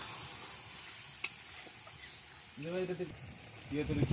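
Onion, garlic and ginger pastes with tomato paste, cumin and coriander powder sauté in a pan, giving a steady soft hiss that continues under a person talking.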